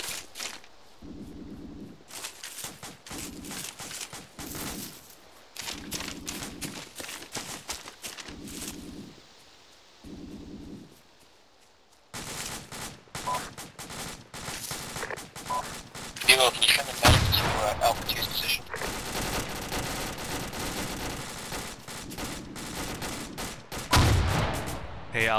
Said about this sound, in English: I think we're taking fire from the south.